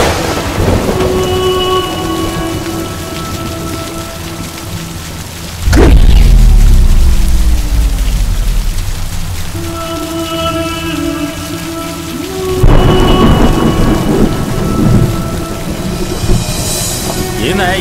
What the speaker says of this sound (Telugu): ఈ వాన ఆగేటట్లేదు. తుఫాన్ అని చెప్పారు కదా.